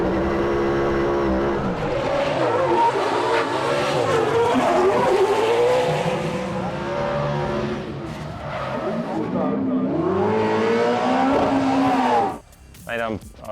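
A Nissan S15 drift car with a small-block Chevrolet V8 roars loud and close at a drifting event, engine pitch rising and falling with sustained tire squeal, before cutting away abruptly near the end.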